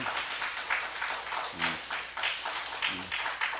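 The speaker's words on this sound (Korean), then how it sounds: "자, 하나님께 영광의 박수 돌립시다." Church congregation applauding during a Sunday afternoon service, a steady rolling patter of many hands at moderate distance, with brief voices breaking through the clapping.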